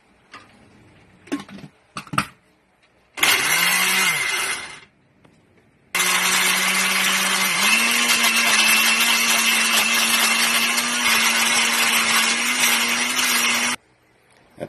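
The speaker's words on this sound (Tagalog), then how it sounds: "At ngayon po ay atin na itong i-blender." A blender whirs through avocado sweetened with honey. A short burst is followed by a long, loud, steady motor drone that runs for several seconds before cutting off.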